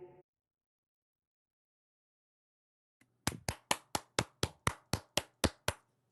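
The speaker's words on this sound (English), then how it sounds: "You don't have to clap, it's fine." Hand clapping, about eleven sharp evenly spaced claps in a steady rhythm, close and clear, following a brief snippet of sound and nearly three seconds of silence.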